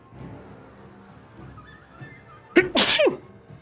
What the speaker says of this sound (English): A little bit of a sneeze incoming.